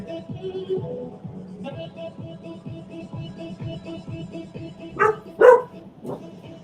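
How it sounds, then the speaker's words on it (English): Two or three sharp dog barks ring out from a short distance, over a quiet background of steady music. "that wasn't Coco barking, was it?"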